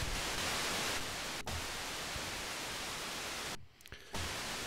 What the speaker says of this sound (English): Okay, so also we have noise on DDS2.